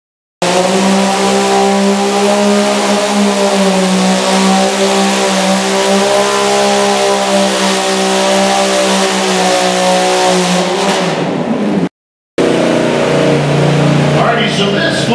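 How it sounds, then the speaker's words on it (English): Pulling tractor with a 283 cubic inch Chevrolet V8 in a Cub Cadet frame, roaring loud and steady at a sustained high rev for about eleven seconds before cutting off, then revving again, at a tractor pull. "This is a 283 cubic inch Chevrolet motor in a Cub Cadet frame."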